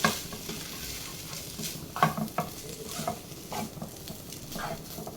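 Chicken fried rice with a little vinegar is stirred in a pan, a quiet ongoing sizzle broken by a few scraping and tapping strokes of the spoon; no one speaks.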